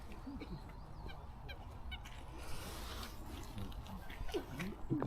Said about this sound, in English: We've been followed by the Canadian geese who think we've got some food or some bread